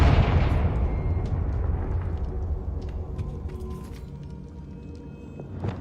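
A Confringo blasting spell detonates in Hogwarts Legacy, a loud boom at the start that rumbles and decays over several seconds, scattered with small crackles and a faint final burst.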